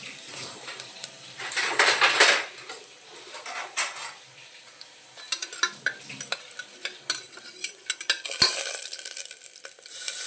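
Cashews and black peppercorns frying and sizzling in a pan while a metal spoon stirs and scrapes, with clinks and rattles coming in uneven bursts. The sound is close and steady, and nobody speaks.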